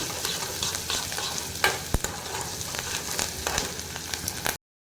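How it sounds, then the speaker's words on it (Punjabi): Tadka tempering sizzles and crackles in a hot pan for a paneer dish, a close, steady frying hiss with a few sharp pops and clinks of stirring before it cuts off abruptly. "ਹੁਣ ਆਪਾਂ ਇਹ ਤੜਕਾ ਲਾ ਲਾਂਗੇ"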